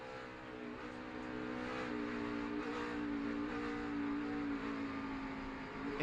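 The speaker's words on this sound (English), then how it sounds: "He's on the brake and he's just blipping the throttle as he's downshifting all at the same time" 2009 NASCAR Toyota/Save Mart 350 stock car at Sonoma, its engine roaring continuously while the driver blips the throttle on downshifts, with brief revving surges over a steady, distant race-car drone and no talking.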